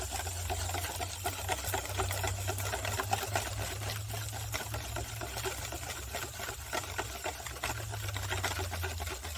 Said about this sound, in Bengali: এটাকে দিয়ে ভালো করে আমি ফেটিয়ে নেব